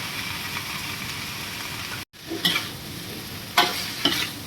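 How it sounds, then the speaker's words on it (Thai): Eel pieces, head left on, stir-fried with chili in a pan: a steady broadband sizzle, broken by a brief drop to near-silence, then scraping stirring strokes over the frying. "ปลาลงไปผัดกับพริกได้เลยครับ"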